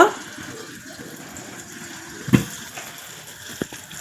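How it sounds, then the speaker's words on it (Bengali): Malpoa pitha batter frying in oil over low heat: a soft, steady bubbling sizzle throughout, with a louder splash early on and a couple of brief knocks. "দিয়ে আমি পিঠেটা ভেজে নিচ্ছি"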